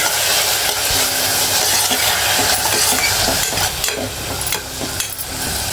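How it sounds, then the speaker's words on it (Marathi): Shelled field beans (val) are sautéed with onions in hot oil, giving a loud, continuous sizzle with scraping spatula strokes and occasional clinks, close up and with no talk. "वाल चांगले कांद्यावर परतून घ्यायचे"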